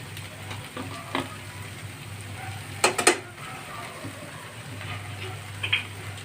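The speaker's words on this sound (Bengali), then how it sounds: "এবার আমি এর মধ্যে কিছু সস দিয়ে দেবো।" Sauces being added and stirred into masala Maggi noodles in a pan, giving a soft steady sizzle with a few sharp scraping clicks of a spatula, heard close with no talking.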